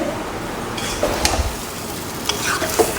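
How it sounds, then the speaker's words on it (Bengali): Meat sizzles in a pan on a home stove, a close, even frying hiss broken by a few scraping stirs and light clinks of a utensil, with no talking. "মাংস রান্না হচ্ছে"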